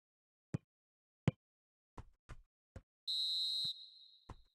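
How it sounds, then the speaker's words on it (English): A football referee's whistle gives one sharp, shrill blast lasting over half a second, loud and close, amid a scattering of isolated thumps and knocks before and after. "Referee looks at his watch and blows his whistle."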